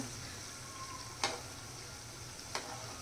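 Spinach bhaji fritters crackling in hot oil in a pan, a steady soft sizzle with two brief sharper pops standing out, faint and continuous with no talking.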